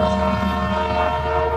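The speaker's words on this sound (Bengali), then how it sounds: "আমাদের ট্রেন লম্বা হুইসেল দিল, অর্থাৎ আমার ট্রেন এখনই ছেড়ে যাবে।" The Sagardari Express sounds a long departure whistle, a loud, sustained steady tone lasting the whole short moment.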